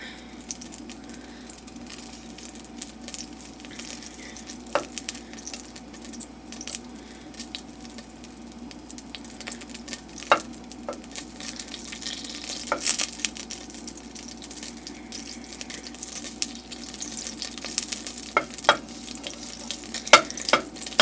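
Butter melting in a pot for pumpkin soup gives a soft, steady sizzle with scattered faint crackles and pops, fairly quiet and with no voices.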